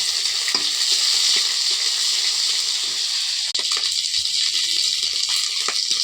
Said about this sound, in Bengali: আগে রসুন থেতোগুলো দিয়ে দিব, শুটকি মাছও দিয়ে দিব,